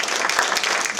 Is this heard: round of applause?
yes